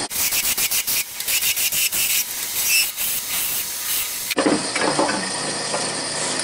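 A gouge roughs out wood turning on a lathe, giving a loud rhythmic hissing scrape with repeated pulses. Partway through it shifts into a steadier, brighter hiss.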